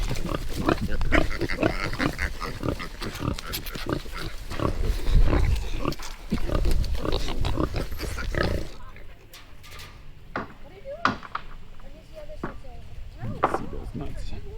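A Berkshire Yorkshire mix pig grunts and snorts repeatedly on a homestead, the rough grunts close and irregular, at first under busy background noise and then more isolated, while people talk intermittently.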